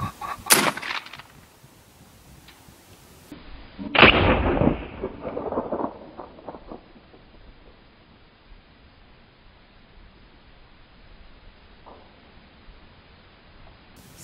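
A distant rifle report from an AirForce Texan .457 big-bore air rifle, followed about three seconds later by a sharp, loud metallic impact on a steel target that rings and decays into quiet outdoor background.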